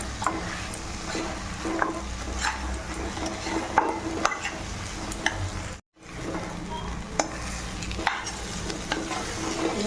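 Goat trotters frying with spice masala in a pan, a dense continuous sizzle with frequent clicking stirs and scrapes, close up, with a brief dropout midway.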